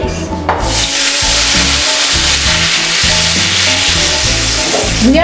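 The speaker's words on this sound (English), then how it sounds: "Now we can deglaze our pan by adding in some pomegranate juice." Pomegranate juice is poured into a hot pan to deglaze it after chicken Francaise, giving a loud, steady, close sizzle with scraping and stirring mixed in and no talking.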